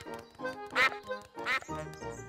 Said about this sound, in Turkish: Bu bayan ördek ve arkadaşları.